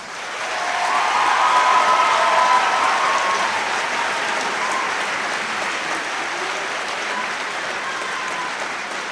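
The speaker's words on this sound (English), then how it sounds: "let's give our seniors a round of applause" An auditorium crowd at a technology center senior ceremony gives seniors a long round of applause, swelling quickly into a loud, sustained roar of clapping that holds steady for several seconds.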